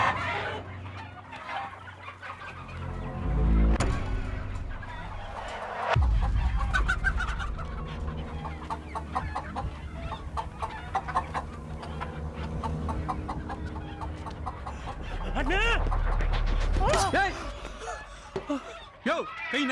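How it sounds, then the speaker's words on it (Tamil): Chickens cluck and squawk in a poultry shed holding about 400 birds, a busy, close flock chatter running throughout with louder bursts, mixed with people talking and thumping movie-scene sound effects. "உள்ள இருக்கிற 400 கோழியும் இன்னைக்கு சாக போகுது."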